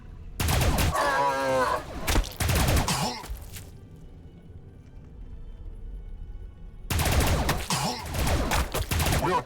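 Dense bursts of gunfire from the Warhammer 40,000: Battlesector strategy game rattle loudly in two long volleys separated by a quieter gap.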